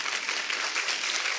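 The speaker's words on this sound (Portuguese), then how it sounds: "Uma salva de palmas, porque essa é a Natália." A brief burst of steady audience applause at a nutrition symposium, many hands clapping in a continuous dense wash heard at moderate distance.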